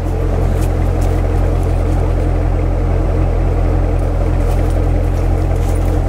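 A new Chevrolet Corvette Stingray, a hurricane survivor, runs close by with a loud, continuous low engine rumble. There is no talk and no sharp rev peaks.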